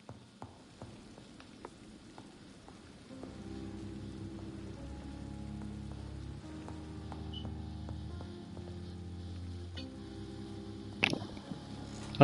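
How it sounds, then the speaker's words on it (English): Rain falling in the video game Vampyr, a faint soft patter beneath quiet low sustained music tones, with a brief brighter burst near the end. "I can hear rain."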